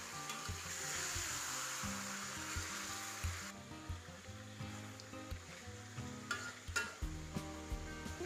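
A kilo of goat meat pieces with shallots and finely ground ginger is stirred in a pot for goat masala. A loud sizzle comes first, then gives way to repeated scraping and clattering stirs with steady sizzling underneath.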